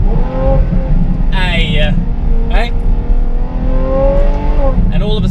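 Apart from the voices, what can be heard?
Ferrari F12 with Innotech IPE exhaust revving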